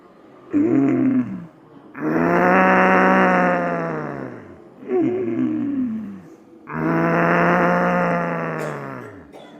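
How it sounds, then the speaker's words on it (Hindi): Loud, close snoring-like yogic breathing from the throat with the tongue curled back against the palate, alternating two shorter rasping inhales with two long, steady exhales, alone and without talk. "मधुर खर्राटे श्वास भरते हुए श्वास खाली करते हुए प्रारंभ करें"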